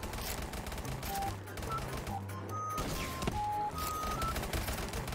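Dense, continuous gunfire and explosive blasts rattle through a Black Ops 3 Zombies match, loud and cluttered, with brief tonal game sounds mixed in.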